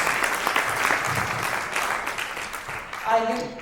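Audience applause at an awards event for doctors, a steady wash of clapping from a crowd that carries on for several seconds before fading, with a voice briefly audible near the end.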